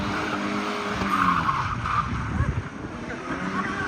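A short-wheelbase TVR classic car whizzes around at a car show, its tyres skidding and engine buzzing up close in quick bursts, with faint crowd voices underneath.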